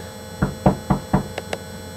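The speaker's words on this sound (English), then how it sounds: "Would you like to knock on the door?" Knuckles rap on a door in a quick series of four solid knocks, followed by two lighter, sharper taps, close and clear over a faint background hum.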